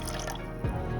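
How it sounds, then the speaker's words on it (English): Veggie broth poured into a cooking pan makes a brief, faint liquid trickle with a small splash partway through. "So I'm gonna add 2 cups of veggie broth to my pan."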